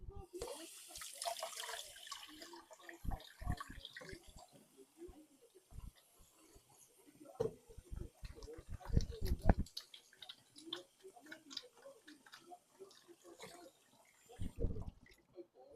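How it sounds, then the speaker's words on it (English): Hands being washed under a running kitchen sink tap during home cooking, water splashing and streaming in bursts with short pauses, fairly close and moderately quiet, with a voice talking at times over it. "And wash my hands."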